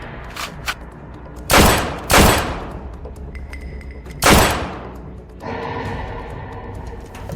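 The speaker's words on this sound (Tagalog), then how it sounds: "Baril." Several loud gunshots ring out from a handgun in a tense confrontation scene, three sharp blasts spaced about two seconds apart with lingering echoes and background ambience.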